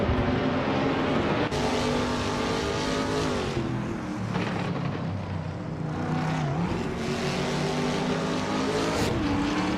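Racing engines in a driving game, led by a Ford Mustang in the Trans Am class, give a loud steady roar with rising and falling pitch through gear changes as cars run close together, with no voices.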